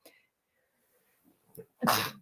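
One sharp, close sneeze bursts out near the end after a few quiet breathy sounds in an otherwise hushed room.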